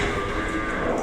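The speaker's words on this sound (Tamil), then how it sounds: "இங்கே பார்த்தீங்கன்னா நிறையா வந்து மாடு இருக்குது" Cattle at a busy spot crowded with cows give a loud, close, sustained moo that carries through the whole moment, with no voices.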